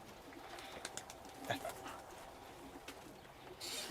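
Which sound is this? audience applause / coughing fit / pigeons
pigeons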